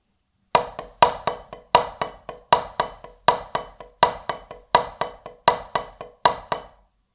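Snare drum shuffle played with only a downward stroke motion, giving a choppy, uneven bam-boom pattern of strong accented hits followed by quieter ones, about fourteen strokes repeating steadily and close with no talking.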